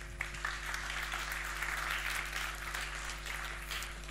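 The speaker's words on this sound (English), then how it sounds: "Please give him a warm round of applause." An audience applauds after a talk is introduced at a Ruby unconference, a steady, fairly faint patter of many hands clapping for about four seconds, with a low constant hum beneath.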